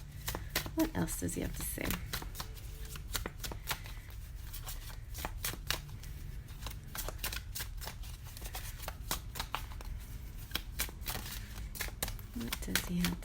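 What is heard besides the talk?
shuffling tarot cards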